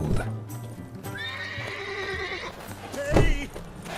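A horse in The Witcher 3 whinnies loudly in the middle while hooves clip-clop beneath, with game voices and effects mixed in around it.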